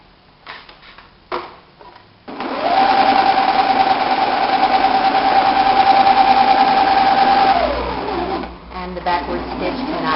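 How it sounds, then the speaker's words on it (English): A sewing machine stitches a blouse shoulder seam in one long steady whir lasting several seconds, close and loud, preceded and followed by brief handling clicks and fabric rustle. "We're off to the sewing machine."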